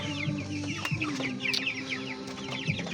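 Broiler chickens at a morning feeding cluck and squawk close by in an overlapping, busy chorus, with a few sharper calls standing out.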